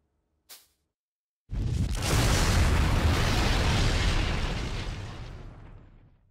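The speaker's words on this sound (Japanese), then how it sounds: "その攻撃によって轟音を上げながら爆発した。" Video game explosion of a war machine's engine: a single small pop, then a massive roaring blast that rumbles loudly for several seconds before slowly fading away.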